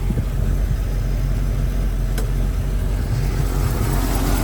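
A 1970 Chevrolet K four-wheel-drive pickup engine runs steadily, a loud, close, even low rumble with no change in pace and one brief click partway through, with no talking.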